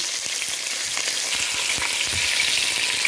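Chicken sears in a very hot pan with a loud, steady sizzle and crackle that holds throughout, with small pops scattered through it.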